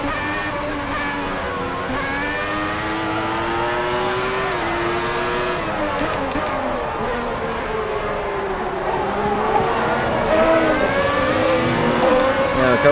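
A 1994 Formula 1 car in the Assetto Corsa racing game at the German Grand Prix, a loud continuous high-revving engine wail rising and falling through gear shifts, with brief clicks and no talk over it.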